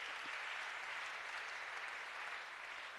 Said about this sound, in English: it's a good place to clap.